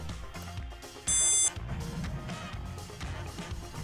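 A single sharp, high-pitched electronic beep lasting about half a second, the confirmation buzzer of a Shelly BLU Button1 smart button, rings out over a steady background hum.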